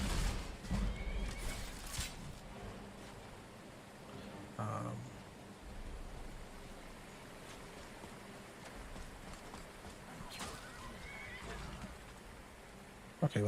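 A horse in the video game Skyrim whinnies once, clearly, over steady background ambience and scattered faint sounds, with no talk during the call.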